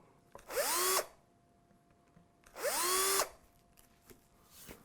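A power drill countersinks screw holes in the wood of a Trev Wilkinson guitar kit, giving two distinct whirring runs of about half a second each that spin up to a steady pitch, with a fainter third start at the end.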